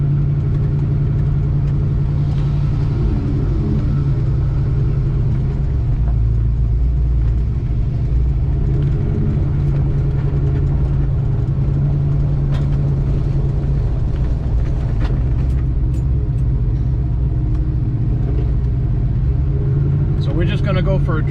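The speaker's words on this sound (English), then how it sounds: "I'm gonna go for a little drive." A 1970 Chevelle with an LSA engine driving along a main road, a loud, constant low engine rumble and drone that holds throughout with little change in level.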